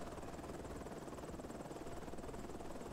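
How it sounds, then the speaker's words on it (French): Helicopter in the roleplay video game Onset, a steady droning rotor and engine hum filling the whole stretch at an even, moderate level with no talk over it. "Wow, j'arrive. J'ai un hélico,"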